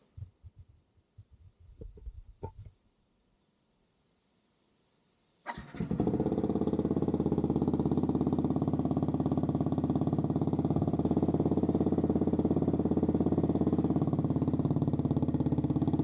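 A Yamaha XSR 155 motorcycle with a new muffler and no silencer starts after a few quiet handling knocks, then settles into a loud, steady, close-up idle with a throbbing exhaust note.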